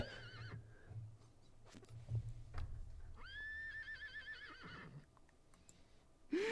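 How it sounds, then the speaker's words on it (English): A horse whinnies in the video game Dragon Quest VIII, a rising, wavering neigh in the middle of the clip, with softer hoof-like knocks and game background sound around it. "She's back to being a horse."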